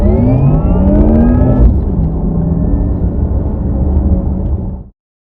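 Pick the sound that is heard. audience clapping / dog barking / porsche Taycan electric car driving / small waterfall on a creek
porsche Taycan electric car driving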